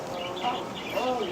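Small caged birds in a pet shop chirp and tweet continuously, with overlapping bright calls against a steady, busy indoor background.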